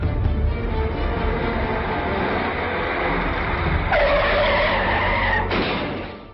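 Car skidding in a traffic accident reenactment: a long, loud continuous tire screech with rushing engine noise, shifting in pitch near the end before tailing off.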